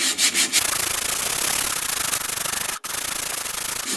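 Close, continuous sanding of old yellow paint off a homemade motorcycle top box, a harsh, gritty rubbing in quick strokes with a brief pause partway through.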